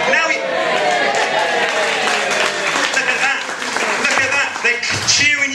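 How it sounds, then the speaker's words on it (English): A pub comedy audience claps and cheers in a loud sustained roar, with shouting voices and whoops rising over the applause and a brief surge near the end. "they're cheering you as if you dropped a glass"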